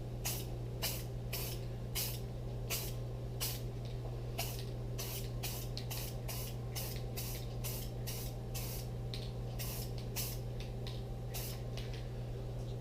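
A spray paint rattle can gives a light dusting to wood for an orange stain finish: about two dozen short, sharp hissing bursts in a steady rhythm over a constant low hum, close and clear.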